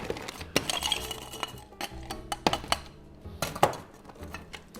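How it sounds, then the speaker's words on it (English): Lime wedges and ice cubes drop into a cocktail glass for a non-alcoholic dark and stormy, giving a run of close, sharp clinks and clatters with uneven pauses between them. "I just add 2 squeezed lime wedges, some ice"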